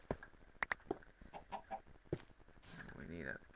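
A few short, sharp clucks from a Minecraft chicken at close range, spaced irregularly, with a faint murmur of movement behind them.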